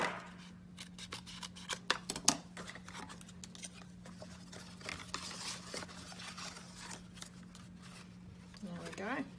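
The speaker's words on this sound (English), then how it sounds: "So I'll just bring in my scissors and cut off that little bit." Quiet snipping and crisp cutting clicks of scissors cutting paper, irregular and close, over a faint steady hum with occasional soft voice sounds.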